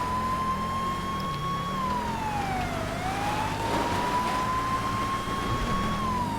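A police car siren wails in GTA V, loud and continuous with a slow rising and falling sweep over a low engine rumble, with no voices.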